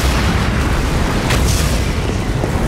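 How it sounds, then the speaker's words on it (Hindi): A loud, sustained explosion roars and rumbles through a dubbed Max Steel cartoon episode, a dense blast-like wash of noise with no talking. "मैक्स स्टील सब कुछ धमाके से उड़ा देगा"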